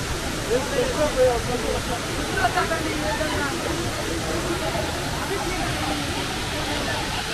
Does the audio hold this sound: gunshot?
no